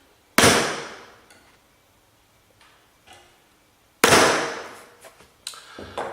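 Two sharp metallic strikes of a hammer on a center punch marking metal land a few seconds apart, each ringing briefly before fading, followed by light clinks and a faint tap.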